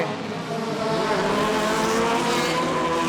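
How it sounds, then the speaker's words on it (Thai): A race car at a Thai racing festival accelerates hard at full throttle, a loud, sustained high-pitched engine wail rising steadily with no voices over it. "ขยี้คันเร่งครับ สุดๆครับ"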